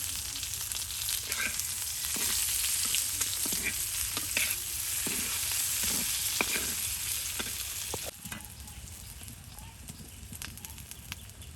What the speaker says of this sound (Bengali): পেঁয়াজ, রসুন, ডিম, তার সাথে কাঁচামরিচ সব একসাথে দিয়ে ভেজে নেওয়া হচ্ছে।